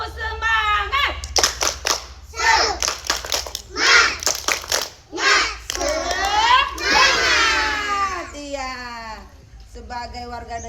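Young children in a classroom do a spirited chant with rhythmic group clapping, bursts of sharp claps alternating with shouted sing-song voices, led by a teacher.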